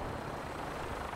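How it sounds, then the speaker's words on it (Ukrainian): Helicopter flying in from the Fallout 4 video game, a dense steady rotor and engine roar, fairly faint and unbroken, with no voices. "Гелікоптер сюди летить, чуєш?"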